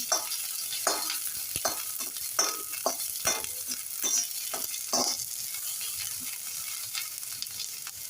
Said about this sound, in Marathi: आता बारीक चिरलेला उभा चिरलेला कांदा घालूया